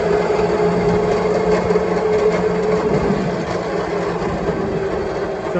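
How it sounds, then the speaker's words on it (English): An electric Tilmor 520e cultivator converted by Thiessen Tillage runs steadily with a loud, continuous whine from its 2-speed reduction gearbox and differential, a humming mechanical drone that holds nearly unchanged throughout with no voices. "mostly what you hear is the 2-speed reduction gearbox and the differential."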